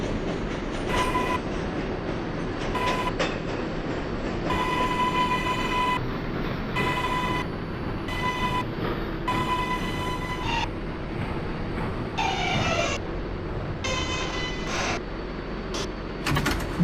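An R142A 6 subway train runs between stations from 116th Street toward 110th Street, a steady loud roar with wheel rumble and rhythmic clatter inside the car, a sharp rising whine and squeal near the end.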